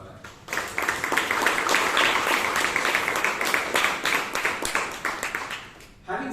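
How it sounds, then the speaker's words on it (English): Audience applause fills a Toastmasters club meeting in Bangalore, a dense patter of many hands clapping steadily for several seconds before tapering off near the end. "can we have a round of applause for that?"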